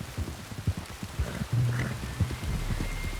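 Rain falling steadily outdoors, a soft, continuous patter with scattered drops and low rumbles, heard alone without talk.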